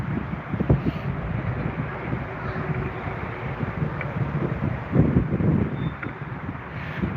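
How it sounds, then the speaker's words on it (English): Wind buffets a microphone outdoors by a river on a bright day, a steady low rumbling roar with gusts swelling louder in places, with no voices. "It's a shame that it's still a bit windy."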